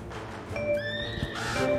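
A horse gives a brief, high, wavering whinny with faint hoof clip-clops nearby, heard fairly close against a quiet background.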